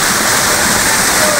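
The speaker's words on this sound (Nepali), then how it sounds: "यो पानी यसरी निस्केको छ देख्न सक्नुहुन्छ" Spring water gushes out beneath a forested ridge at the head of a stream, a loud, steady broadband rush with no break, heard up close.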